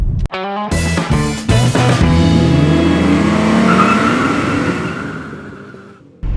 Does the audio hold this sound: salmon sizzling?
no